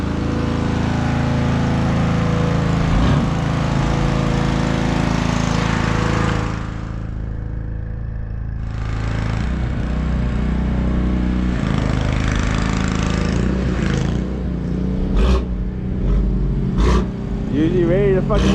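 A single-turbo BMW 135i runs on a dyno, its engine holding a loud, steady drone that dips briefly, then rises again, with rev flutters toward the end and people talking underneath.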